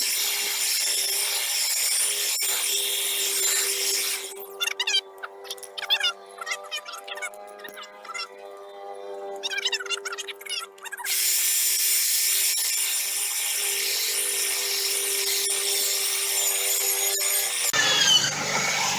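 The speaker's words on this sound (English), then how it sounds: "So I'm just going to drill these off." Power drill grinding off the brake rotor retaining screws on the front brakes of a 2009 Honda Civic EX, a loud steady whine that breaks into choppy bursts midway before resuming a continuous grind.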